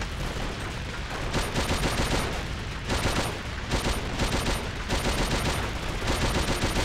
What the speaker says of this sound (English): The Japanese have some big anti-air guns.